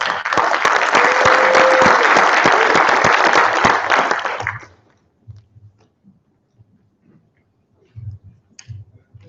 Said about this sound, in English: let's have a big warm round of applause for Kathy